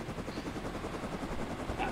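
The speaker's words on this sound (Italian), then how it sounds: "L'elicottero accroccato, no craccato" A helicopter in the video game Rust, a faint, steady rotor drone with rapid blade chop, continuous for a couple of seconds at low level.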